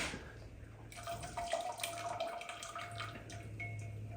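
Cheese curd dropped into a glass of salt water makes a faint splash followed by soft sloshing and trickling, quiet and close.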